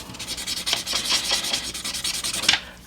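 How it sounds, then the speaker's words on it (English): Colored pencil burnishing tool rubbing back and forth on paper over a drawing, a close, dry, scratchy series of quick strokes with no talk. "I'm going to take a little bit of the burnishing tool. This is really great for getting colors to blend."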